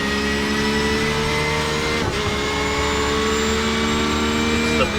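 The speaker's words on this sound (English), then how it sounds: "It's the Porsche against the Ferrari." Porsche and Ferrari GTE race cars at Mid-Ohio in a racing video game give a loud, steady engine drone with whining harmonics and a brief gear-change dip midway, with no talk over it.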